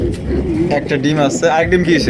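An Andalusian beauty pigeon coos in soft, throaty rolling pulses close by, continuing under a man's conversation.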